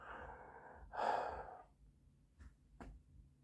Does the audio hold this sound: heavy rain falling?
no